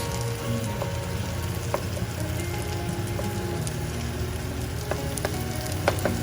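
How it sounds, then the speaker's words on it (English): Ginger garlic paste fries in a hot pan with a dense, continuous sizzle, dotted with sharper pops and crackles, close up and with no talking. "I'm going to be adding about a tablespoon of ginger garlic paste and let it cook till the ginger garlic paste browns"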